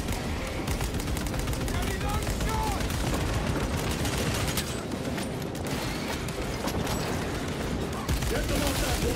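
Dense, continuous gunfire and booming volleys fill a Space Marine 2 battle at a breached wall, loud and unbroken, with voices mixed into the din.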